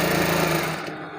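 A sewing machine runs fast and loud stitching two kameez pieces together, a steady close mechanical whir that stops abruptly near the end.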